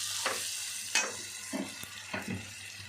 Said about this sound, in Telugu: కొంచెం కరివేపాకు వేసుకొని ఈ విధంగా కలుపుకోవాలండి